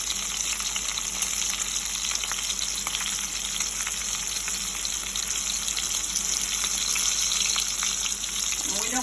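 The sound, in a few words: pork cutlets frying in a pan, for pork Marsala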